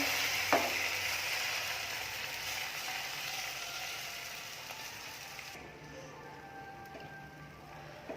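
Omelette batter sizzling in a hot pan, a continuous crackling fry with a clink of a utensil near the start, the hiss easing slightly toward the end.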